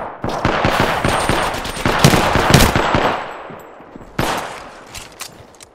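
Automatic gunfire in Apex Legends, rapid loud bursts of close shots with sharp metallic cracks, a sustained volley that fades, then a shorter burst and a few scattered shots.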